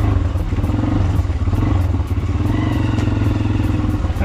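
Motorcycle riding down a rough, rain-wet street in El Salvador toward the Tejutepeque waterfalls, with a loud, close, steady engine rumble and a rattling clatter over bumps.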